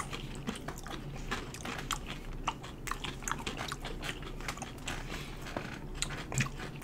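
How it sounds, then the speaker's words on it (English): Crunchy food from a viral TikTok food hack is chewed close to the mic, with rapid, irregular crisp bites and crunches that continue steadily, with no talking. "Stop chewing."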